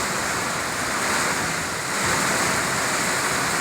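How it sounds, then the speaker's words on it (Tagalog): Strong typhoon wind roars steadily with dense rain pouring down during Typhoon Tisoy's landfall in Bicol, a continuous loud broadband rush with no pauses. "napakalakas hangin saka ulan"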